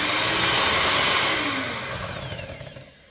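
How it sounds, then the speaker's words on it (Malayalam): Electric mixer whirring steadily through avocado cake batter just after sunflower oil is poured in, a loud close motor drone that tapers and softens toward the end. "സൺഫ്ലവർ ഓയിൽ ഒഴിച്ചതിന് ശേഷം നമുക്ക് ഒന്നും കൂടെ ഒന്ന് ബീറ്റ് ചെയ്യാം."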